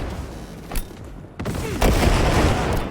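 Rapid bursts of gunfire from an enemy turret in the video game Cyberpunk, loud and close, with sharp cracks followed by a sustained heavy barrage of firing.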